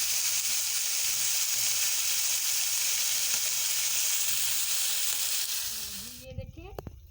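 Chicken steak searing in a pan, a steady continuous sizzle and hiss that cuts out near the end, followed by a few clattering handling noises.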